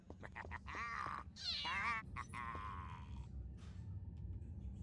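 A cat in the video game Harry Potter and the Philosopher's Stone on PC lets out several close, rising and falling meows in quick succession over a low rumbling background.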